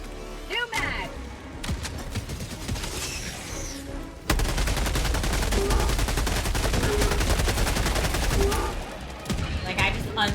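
Rapid automatic gunfire comes from an indie shooter video game, with scattered shots at first and then a long sustained burst, loud and continuous, alongside a voice talking.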